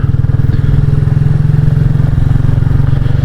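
A Royal Enfield Classic 350 motorcycle rides a tree-lined road on the Gospel Pass in Wales, its single-cylinder engine thumping loudly and steadily at a constant pace from close by.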